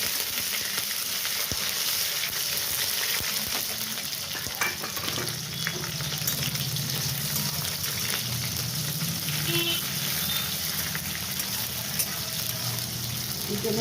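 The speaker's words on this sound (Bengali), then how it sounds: "কুচনো পেঁয়াজ আমি ভাজবো।" Chopped onions fried in a pan with black cumin seeds, bay leaf and garam masala, a continuous close hiss and crackle with occasional stirring scrapes, steady throughout, no talking.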